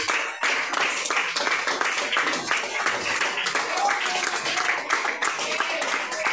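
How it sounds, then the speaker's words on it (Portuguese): A church congregation at a Pentecostal service clapping in praise to God, steady rhythmic hand claps filling the room, loud and continuous, with voices mixed in underneath. "as palmas louvando a Deus"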